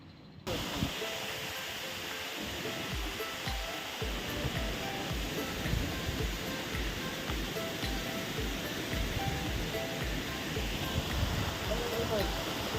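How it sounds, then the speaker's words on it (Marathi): Waterfall on a forest trek trail near a hilltop temple at Alibag, a steady broadband rush of falling water filling the scene continuously, with voices talking over it. "हा तो धबधबा"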